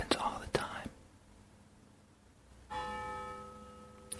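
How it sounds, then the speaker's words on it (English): A bell rings with a sustained, resonant tone that hangs in the air after some soft whispering and rustling at the start. "The bell keeps ringing and ringing."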